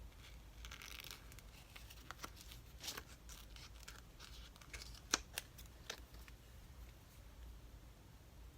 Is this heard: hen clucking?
no